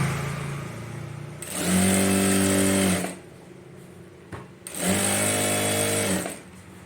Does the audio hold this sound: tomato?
no